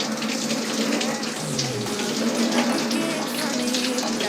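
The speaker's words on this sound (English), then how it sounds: "So first thing we do is give his hair and scalp a good rinse." Water from a tap runs steadily and loudly while a man's hair and scalp are rinsed, a continuous gushing splash that fills the whole stretch.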